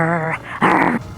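A person imitates a gorilla growl for a theatre scene about an ape, making two short, loud, throaty vocal growls close to the microphone, the second more strained.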